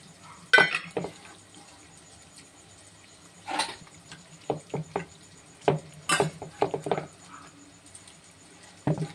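Metal pot lid set over fish cooking with water, scattered close clinks and knocks of lid against pot at intervals, quiet and without talk.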